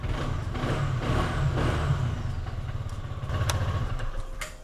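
A 2026 CFMOTO Aura 150 motorcycle engine runs close by during a sound test, a steady low throbbing idle with a slight rise in the middle and a few faint clicks, no talking.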